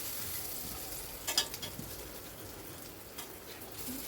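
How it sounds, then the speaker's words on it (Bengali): Cucumber and raw potato snack pieces frying in a pan as they are turned with a spoon: a soft, steady sizzle with a few light scraping clicks, fairly quiet and without talk. "একটা চামচ দিয়ে আমি এটাকে ওলট পালট করে দিচ্ছি, যাতে ওপর পোর্শনটা নিচে চলে যায় এবং ভাজা হয়ে যায়"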